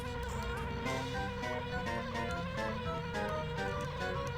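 Insect-like buzzing of bees around a beehive in the video game Banjo-Kazooie, a steady droning hum layered within busy game music and effects, moderately quiet.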